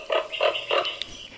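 Three quick, guttural croaks from a common raven follow one another in a short run, ending with a faint, higher note, close and fairly loud.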